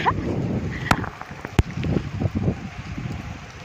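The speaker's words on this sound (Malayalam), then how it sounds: "മഴ മഴ മഴ മഴ." Close, steady patter of rain in Oman with a couple of sharp taps standing out.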